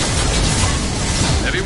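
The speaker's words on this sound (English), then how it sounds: "Firing a high-impact shot." A high-impact shot fired in Mass Effect 2, heard as a dense, loud burst with a booming low end that fills the whole moment, with no gap or tail standing apart from the blast.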